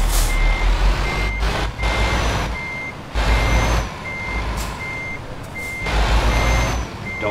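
Repeated electronic reversing beeps from a truck in Euro Truck Simulator 2, sounding at a steady interval over a low diesel engine rumble with occasional air-brake hisses.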